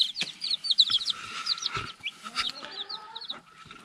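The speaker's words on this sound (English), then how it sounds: "They're Americanas crossed with white Cochin Rooster." Ameraucana chickens crossed with a white Cochin rooster cluck and chirp close by in a yard, a busy flurry of short, overlapping calls with a few soft thumps.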